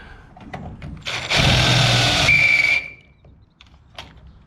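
A power drill with a standard 8mm bit drills out a spot weld on a Datsun 1200 coupe body panel, a loud burst of whining grind lasting about two seconds with a squeal near its end, quieter workshop sounds around it.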